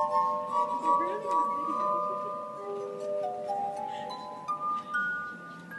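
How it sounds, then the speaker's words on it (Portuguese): A finger circling the rim of a wine glass draws sustained, singing tones that hold and shift in pitch over several seconds, a clear ringing resonance with soft background noise and no speech. "passar o seu dedo ao redor de uma taça de vidro na velocidade certa produz"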